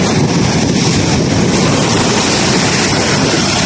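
Large ocean waves surge against a sloped sea wall and into its gutter, making a continuous, loud, rough roar of churning water and wind-buffeted noise throughout, with no voices.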